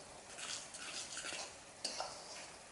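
A spoon stirring chicken, edamame and chopped spring onions in a hot pan, a faint, soft scraping and sizzling with one brief clink of utensil on metal.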